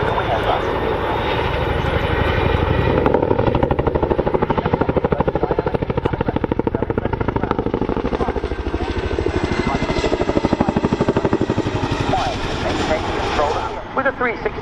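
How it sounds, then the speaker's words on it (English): Loud, steady rotor thump and engine roar from a Chinook helicopter flying a display of wing-overs and flat turns at an RAF Cosford air show, with a commentator talking over it throughout. "The agility and power of the Chinook make it a real pleasure to fly"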